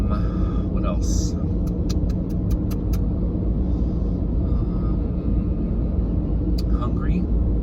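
A car driving, heard from inside the cabin: a steady low road-and-engine rumble runs throughout, with a brief run of evenly spaced sharp ticks near the start.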